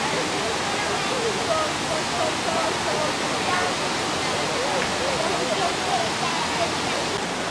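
Water pours down a waterfall in a steady, dense, hissing roar that fills the whole stretch, with a voice faintly beneath it.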